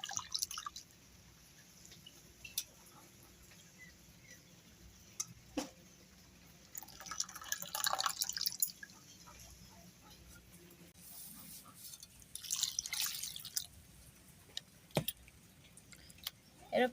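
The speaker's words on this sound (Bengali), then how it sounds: "এরকম করে বারবার জল দিয়ে ভালো করে ধুয়ে নেব।" Potatoes are washed by hand in water, repeatedly rinsed until the water runs clear, with soft sloshing, squishing and dripping sounds that rise in short bursts, close and fairly quiet, and a voice speaking at times.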